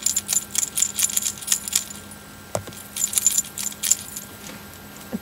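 Metal choker necklace jingling in small, light clinking bursts, close and fairly quiet, with a short pause midway before the tinkling resumes.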